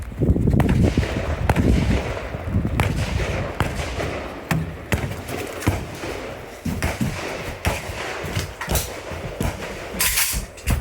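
AK rifle shots at the 2023 AK Masters shooting competition crack out in a rapid, irregular string of sharp, loud reports, close up, with heavy echoing rumble and no voices.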